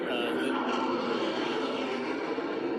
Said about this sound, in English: after another plane goes by